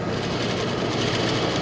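A sewing machine stitches a quarter-inch seam allowance for a Hong Kong seam, giving a steady, close, rapid mechanical whirr with no talking.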